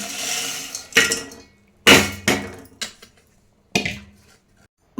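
Boondi being stirred into sugar syrup in a pot off the heat: loud, close metallic clanks and scrapes of a spoon against the pot come in irregular bursts with short quiet gaps, and no one speaks.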